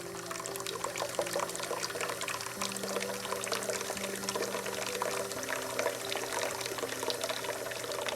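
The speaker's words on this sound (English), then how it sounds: "Using warm water from the faucet, I fill my basin to a quarter full." Warm water runs from a faucet into a basin, a steady, soft pouring stream with a faint hum, continuous throughout and close.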